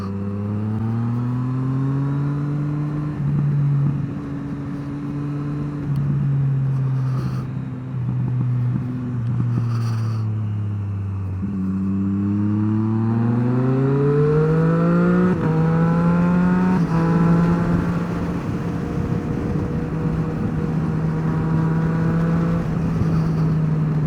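A motorcycle ridden on the road, loud and close from the rider's position. The engine pitch climbs and falls as it revs through gears, with a brief lull midway before it builds again, all under steady wind rush.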